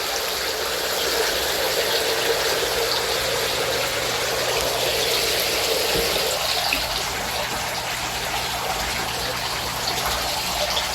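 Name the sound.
pond pump running in water tank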